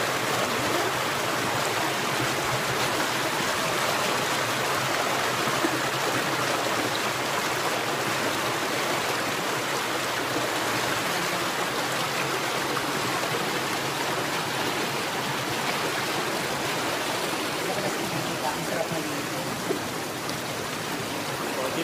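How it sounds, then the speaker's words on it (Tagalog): Cold mountain stream water rushes in a steady, loud, unbroken wash of noise that holds constant for the whole stretch. "Ayan yung mga tubig dito."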